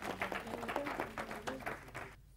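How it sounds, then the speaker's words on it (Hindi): Applause from a quiz show audience after a correct answer, a steady patter of many hands clapping at close range for about two seconds before cutting off abruptly. "तालियां।"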